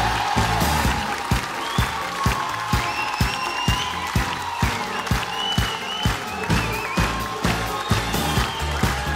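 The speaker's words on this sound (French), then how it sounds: "Je vous demande d'applaudir très très fort Yona et Elliot." An audience at a dance competition finale claps for two dancers over loud pulsing music, the applause steady and bright beneath the beat throughout.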